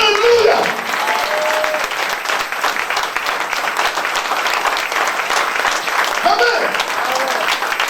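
A church congregation applauding and acclaiming God in worship, a dense, loud and continuous wash of clapping from a large crowd with scattered shouts and voices mixed in throughout.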